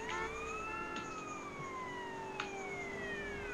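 A police car siren in GTA San Andreas wails steadily during a chase, its gliding pitch sweeping slowly downward, moderately loud and continuous, with no talk over it.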